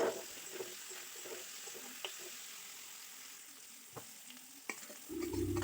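Tomato and vegetables fry quietly in a pan with salt and turmeric, giving a soft steady sizzle with a few faint stirring clicks, closing in a louder burst of frying.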